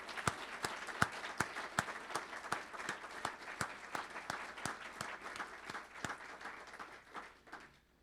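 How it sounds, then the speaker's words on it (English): An audience at an awards event applauds with a sparse, fairly distant patter of claps that holds steady for several seconds, then thins and fades near the end. "So let's give everyone a big round of applause."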